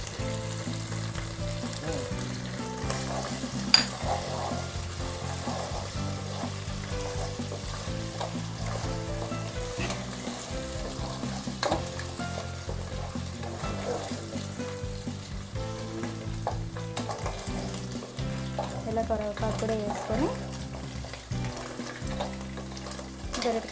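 Curry leaves and ginger-garlic paste fry in hot oil for a Chennai-style fish curry, a steady close sizzle with occasional stirring scrapes running throughout, no speech heard.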